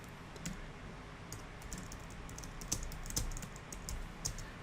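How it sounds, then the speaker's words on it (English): Quiet typing on a computer keyboard while entering a note in AutoCAD: a soft, close run of irregular key clicks with a few brief pauses and no talk. "So I'm going to come down here and type in passivate per ASTM."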